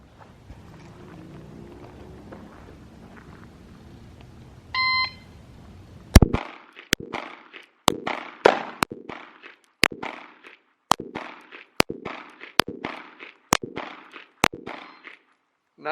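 Glock 19 Gen 5 pistol fired in a steady string of about a dozen sharp, loud shots at roughly even intervals, each ringing briefly, after a short electronic beep from a shot timer.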